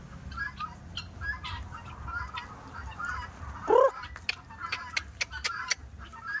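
A loud, raspy two-note guinea fowl call from an alpha male rings out once near the middle, with scattered sharp chirps and clucks from several guinea fowl around it.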